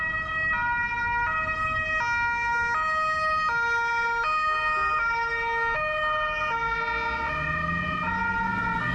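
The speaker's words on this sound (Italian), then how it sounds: "Sirene della polizia accese" A loud, steady two-tone Italian police siren keeps alternating between pitches without a break, close by, with road noise underneath.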